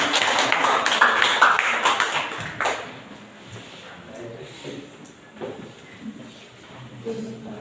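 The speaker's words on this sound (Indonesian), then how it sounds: "Oke, tepuk tangan dulu untuk kelompok." A class in a school teaching-practice session claps for a presenting group, dense clapping filling the first few seconds, then fading into quieter room noise and scattered sounds.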